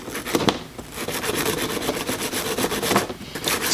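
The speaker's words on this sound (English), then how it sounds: "And you give it a good scrubbing in there." A brush scrubs the connectors of a Game Boy Advance SP with isopropyl alcohol, making steady close rubbing and scratching strokes that run continuously with no voices.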